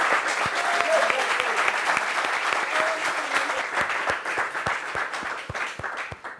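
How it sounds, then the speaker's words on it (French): Studio audience applauding a guest on a TV talk show, steady dense clapping that thins into scattered individual claps toward the end. "Applaudissements pour elle, s'il vous plaît."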